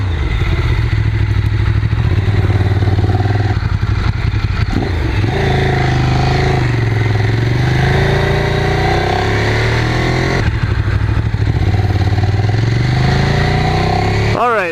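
A Ducati SF848 motorcycle engine runs loud and close throughout on a warm November ride, with gear-change dips and rising pitch as it accelerates, while a rider talks over it.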